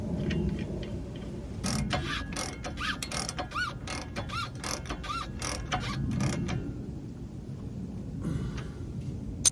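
A nut is run onto a Jeep JK steering stabilizer with a ratchet, a rapid series of sharp metallic clicks in bursts, close and fairly quiet over low background rumble.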